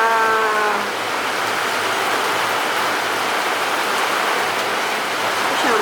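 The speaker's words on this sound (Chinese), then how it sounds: "吃完早餐下大雨啦。" Heavy rain pours steadily on a balcony with potted plants, a dense, even hiss that stays loud for the whole stretch, with a brief low animal-like tone near the start.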